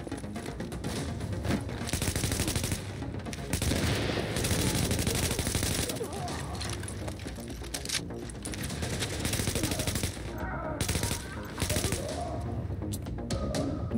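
Sustained automatic gunfire in the shooter game The Division, set in the Hudson Refugee Camp, with steady loud bursts of rapid shots continuing throughout and only brief lulls between volleys.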